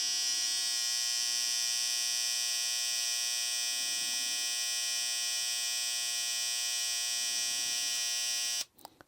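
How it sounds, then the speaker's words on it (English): An FX1 hair trimmer with a metal injection molded blade runs steadily and loudly up close, a bright whining buzz with layered tonal hum, holding constant for about eight and a half seconds before switching off abruptly. "FX1 trimmer coming in at 84 decibels and definitely noticeably louder"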